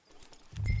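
Horse hooves clip-clop in the Red Dead Redemption 2 video game, a few quiet light steps that grow louder toward the end, with no talk.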